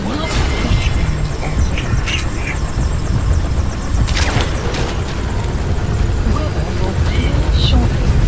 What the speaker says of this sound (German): schön, dass der Heli im Sandsturm herumeiert